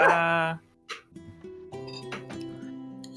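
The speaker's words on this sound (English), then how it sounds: "Very upset dog." An upset dog gives a short loud bark, then whimpers and yips in thin, wavering cries that trail off, set in a tabletop fantasy session.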